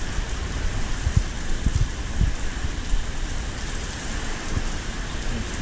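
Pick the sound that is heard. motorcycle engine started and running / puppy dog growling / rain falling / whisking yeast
rain falling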